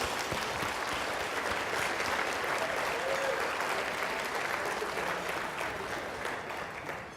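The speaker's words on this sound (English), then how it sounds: "Let's clap it up." Sustained audience applause fills a hall at an exhibition talk, a dense, steady wash of clapping from a sizeable crowd that holds evenly for about seven seconds before easing off slightly at the end.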